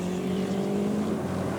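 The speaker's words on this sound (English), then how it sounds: "Just watch this car control as he hurls his Saab through these sheet ice corners." A Saab rally car is driven hard through sheet-ice corners on a frozen-lake special stage at a 1984 Swedish rally, its engine giving a steady, sustained drone close by.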